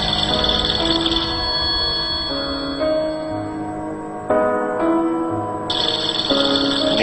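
A loud electronic telephone ringtone plays a repeating melodic tune, its tones shifting in steps, close and clear with no voices.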